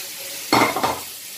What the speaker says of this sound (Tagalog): Haluin natin para maluto, no? Yung hotdog.